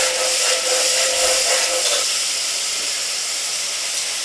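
Crayfish and spices stirred through fried rice in a hot pan: a loud, continuous steamy hiss and sizzle, slightly stronger in the first couple of seconds, with no voices.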